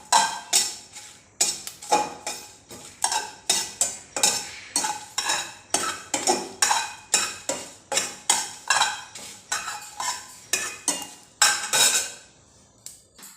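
Spices are dry-roasted and stirred in a pan, a spoon scraping and knocking against the metal in a quick, steady rhythm of roughly two strokes a second, close and clear with no voices.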